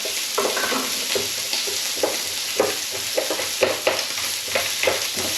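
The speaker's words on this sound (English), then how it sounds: "Now I'm just going to cook the onions and peppers in there on one side." Onions and peppers fry in a pan for spicy chicken udon, a continuous close sizzle with scattered scraping and stirring knocks and no talk.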